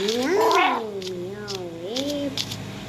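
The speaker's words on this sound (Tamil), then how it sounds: "பூனை வந்துச்சு" A cat in a video game meows loudly with rising and falling drawn-out cries, a couple of calls in quick succession against a quiet background.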